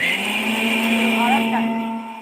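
An electric mixer grinder whirs steadily as it grinds Malvani masala paste with turmeric, a close, even drone that holds for the whole stretch, with a voice faintly under it.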